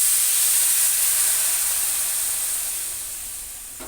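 Warm water poured into rice already fried in oil gives a loud, steady, close hiss of sizzling steam that slowly fades toward the end, with no talking.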